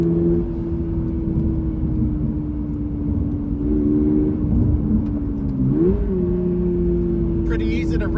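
A 2024 sports car engine, GR86 or Miata MX-5 ND3, hums steadily at moderate revs, then climbs briefly in pitch as it revs up before settling again; wind and road noise underneath.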